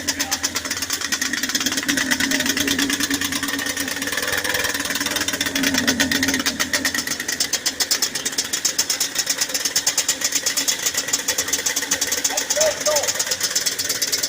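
A rebuilt Yamaha Banshee 350 engine idles fast and high just after its rebuild, a loud, close, steady rapid putter with a constant rasp that runs the whole time without a break.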